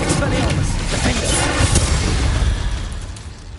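Confringo fire spell explosion in Hogwarts Legacy, a loud booming blast with crackling burst that rumbles and fades out over a few seconds.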